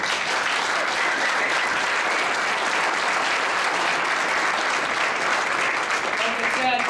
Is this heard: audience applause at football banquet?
yes